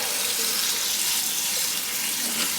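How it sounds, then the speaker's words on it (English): Tap water pours steadily over hominy in a strainer during rinsing, a loud, close, continuous hiss with a faint splash of water moving underneath and no talking. "I am just gonna make sure everything is rinsed"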